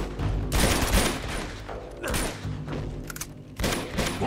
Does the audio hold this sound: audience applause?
no